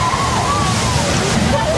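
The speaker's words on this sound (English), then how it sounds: "Trap doors open up, water rushes down at us" Water pours down from a giant tank through opening trap doors in a studio-tour flood effect, a loud, continuous rushing and sloshing heard close by, with a voice faintly beneath it.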